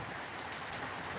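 Steady rain falls outside, a continuous even hiss of drops on surfaces with no voices, heard up close and moderately loud throughout.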